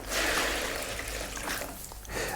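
Water is poured into a leather shoe during steam shrinking, a soft, close splashing trickle lasting a couple of seconds, faint and alone.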